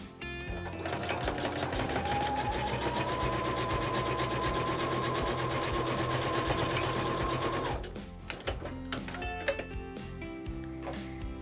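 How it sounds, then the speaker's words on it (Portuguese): A domestic sewing machine runs a simple closing seam on a small fabric phone pouch with a flap, humming steadily and close for about seven seconds before stopping, followed by light handling clicks. "Eu vou só passar uma costurinha aqui para fechar, tá? É costura simples."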